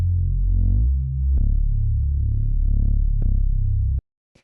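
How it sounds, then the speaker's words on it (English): A low, buzzy synth bass of two slightly detuned saw waves through a low-pass filter plays a short phrase of sustained notes, its filter sweeping brighter and darker, ending abruptly into silence. "just two saw waves, a little bit of detuning, then into a low-pass filter"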